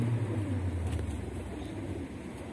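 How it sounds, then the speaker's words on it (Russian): Pigeons cooing in a low, soft, close murmur over faint outdoor background hum, no talking. "куча голубей, куча голубей"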